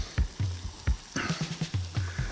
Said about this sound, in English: So we're just going to cook these onions up until they go like translucent.